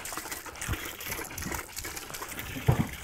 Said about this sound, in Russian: Вода идет самотеком